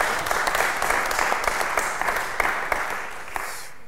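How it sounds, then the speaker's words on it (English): Audience applause welcoming the start of a live podcast recording session, a steady dense round of clapping with scattered sharper claps, fairly loud and close, tapering slightly at the end. "I hope you'll join me in giving a welcoming round of applause to our first session"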